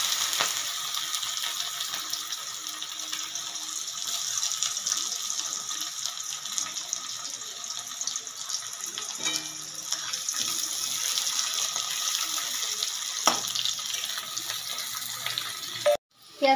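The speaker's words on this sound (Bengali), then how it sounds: "এবার আমি পেঁয়াজ কুচানোটা ছেড়ে দিলাম।" Chopped onion hitting hot oil with whole spices in a wok, a steady broadband frying hiss that holds at even loudness throughout, close up, with faint clinks near the end.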